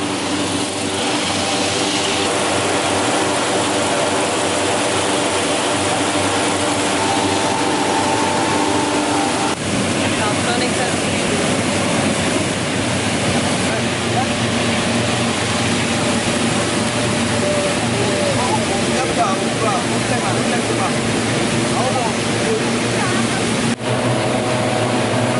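Hot air balloons are inflated at dawn in Bagan, Myanmar: a steady, loud engine-like roar of fans and burners runs throughout without letup.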